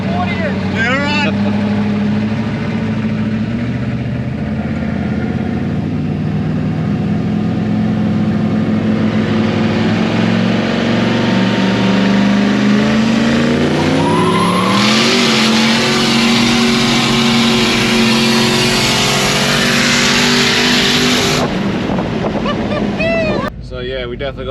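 A shop ute roars through a roll race, its engine revving hard and climbing in pitch as it accelerates, loud and close with heavy wind buffeting throughout.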